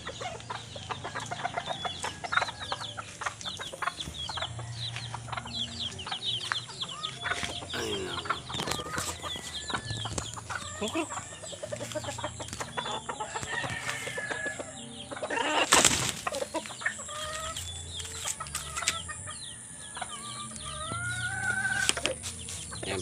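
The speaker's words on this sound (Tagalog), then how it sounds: "magpapatuka tayo ng alaga natin mga manok" Backyard chickens, including young broodstag roosters, cluck and chatter steadily while being fed, with overlapping calls close by, a rooster-like cry, and a brief burst of flapping wings midway.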